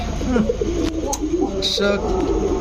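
Pigeons at a pigeon farm coo in soft repeated rolls close by, mixed with a brief higher bird call, while someone talks over them.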